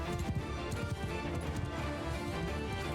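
Galloping hooves of horse archers in Mount & Blade II: Bannerlord beat out a rapid, continuous clip-clop over battle noise, with a faint whinny in the mix.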